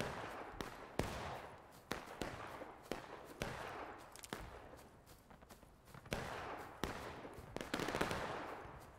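Rapid, irregular gunfire from a battle reenactment, the sharp reports overlapping into a crackling volley that runs throughout, fairly distant and with no talk over it.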